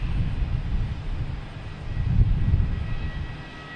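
A Delta E170 airliner arriving from Cleveland at Boston Logan Airport, its engines a steady low rumble that swells slightly midway, heard from a distance with no talk.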